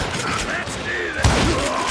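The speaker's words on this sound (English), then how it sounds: "Waste your bullets. Go ahead. Keep shooting." Continuous gunfire fills the Western shooter Call of Juarez: Gunslinger, a dense rattle of shots with one heavier thump partway through, loud and close.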